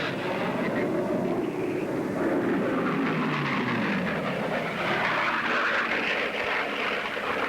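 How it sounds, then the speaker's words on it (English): A steady, loud engine drone of a propeller airplane roaring continuously, with a rough low rumble and no voices. "Too much power and the engine could rip itself right off the airplane."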